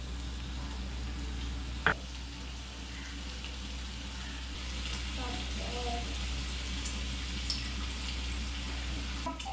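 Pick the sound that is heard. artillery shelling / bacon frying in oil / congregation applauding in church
bacon frying in oil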